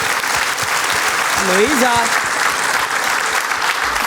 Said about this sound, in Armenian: Բարձր ծափարենք։